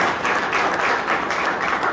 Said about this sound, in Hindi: सभी के सम्मान के लिए एक बार बढ़िया ऊपर हाथ करके ताली बजाइए, सब लोग ताली बजाइए